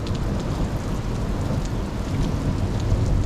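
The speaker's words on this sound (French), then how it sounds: "Ah, c'est un bel orage." A moderate thunderstorm over La Chartreuse in Liège, with steady rain pouring and low thunder rumbling throughout, dense and continuous at close range, no voices.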